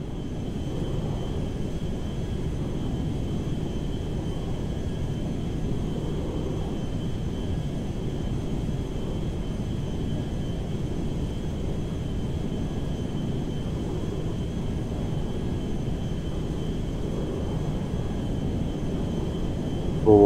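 A cargo jet cruises in the video game Grand Theft Auto V, giving a steady, unbroken engine drone with a low rumble and a faint tonal whine, constant in level throughout with no voices.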